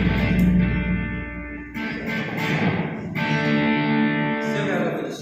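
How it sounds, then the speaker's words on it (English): Electric guitar chords ring out in a workshop with a slight crunch of distortion, strummed a few times and left to sustain at moderate volume, close and alone. "still got a little bit of distortion."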